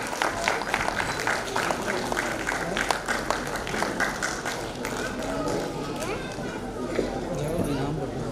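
Audience applause at a prize-giving ceremony, a dense, steady patter of many hands clapping throughout, with voices mixed in underneath.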